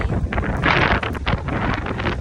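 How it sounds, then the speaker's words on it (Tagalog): Strong gusting wind at Myrtle Beach, South Carolina buffets the microphone with loud, uneven roaring and rumbling that swells and dips throughout, with no voices. "Super windy."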